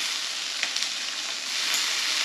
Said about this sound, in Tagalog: Magigisa sa sariling mantika.